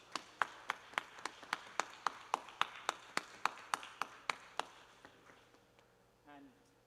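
A single person claps about seventeen times in a steady, crisp rhythm close by at a corporate quiz grand finale, then the claps stop and a faint murmur follows.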